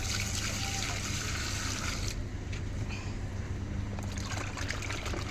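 Water poured steadily over salted fish being washed, a continuous close splashing trickle that changes character partway through.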